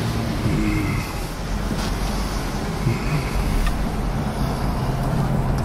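A 1972 Chevelle Super Sport, clean and original, cruising on the road: a steady, moderately loud engine and road rumble holds throughout, with no voices over it.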